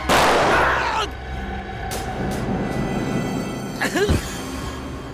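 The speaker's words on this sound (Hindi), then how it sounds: "नहीं नीना नहीं, गन चल जाएगी" A handgun goes off in a TV crime drama: a sharp, loud blast at the start that rings out and decays, followed by tense background sound and a brief vocal outburst near the end.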